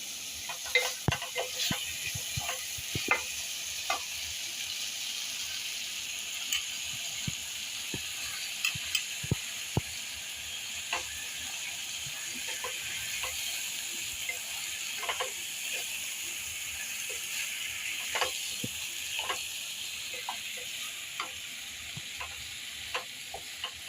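Vegetables for masale bhat sauté in a pan with a steady, fairly soft sizzle, broken by repeated clicks and scrapes of stirring throughout.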